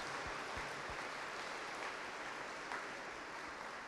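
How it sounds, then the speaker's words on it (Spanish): A church congregation applauding during Mass, a steady soft patter of many hands clapping together, somewhat distant and fairly quiet, with no speech over it. "démosle el aplauso, Miriam Hernández."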